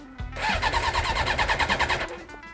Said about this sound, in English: let's check if this bike runs